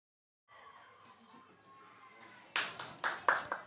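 An audience breaks into clapping after a stretch of faint background murmur, with several loud, sharp bursts of claps in quick succession at close range.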